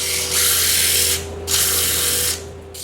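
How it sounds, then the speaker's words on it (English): Steady bursts of coarse-grit sanding on a wooden lidded box, two long raspy strokes separated by a short pause, close and fairly loud against a low hum. "I'll go through my sanding routine again,"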